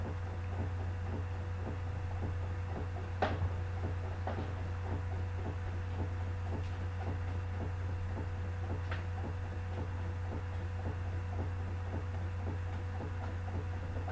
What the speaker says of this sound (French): il est en train maintenant d'imprimer le journal